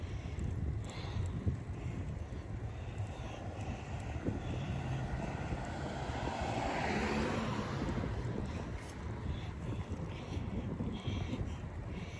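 Steady wind roars and buffets the microphone while cycling, a constant rushing noise with no voices, as if moving through open air.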